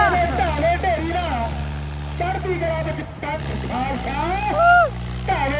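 A tractor engine at a trolley pulling contest drones steadily with a low, continuous rumble that sits under a loud announcer's voice.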